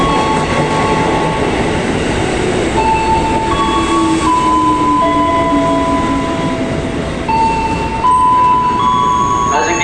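Commuter train at Tangerang station: loud rolling rumble with squealing wheel and brake tones that glide and hold, some clatter, and a faint voice in the mix.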